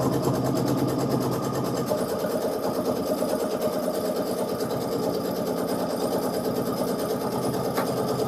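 A sewing machine stitching fabric for a quilted sew-along project, running as a steady, fast, even mechanical whir with rapid needle chatter throughout, close and alone.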